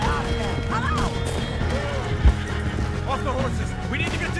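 Horses neigh and whinny in the video game Red Dead Redemption 2, several rising and falling calls over a busy action scene with clip-clopping hooves, a brief crash, and people shouting throughout.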